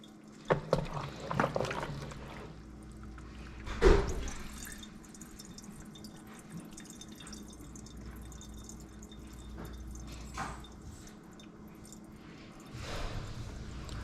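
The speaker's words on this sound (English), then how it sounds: "Drain as much water as you can." Water trickles and drips in a few splashy bursts as it is drained from food, then softer wet squishing and faint dribbling, close up and fairly quiet.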